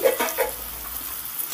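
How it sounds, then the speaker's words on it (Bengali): Pointed gourd pieces sprinkled with salt fry in oil, giving a brief close sizzle with a couple of stirring scrapes at the start before settling into a steady hiss. "আর লবণটা দিয়ে পটলগুলোকে আমি সুন্দর করে ভেজে নেব।"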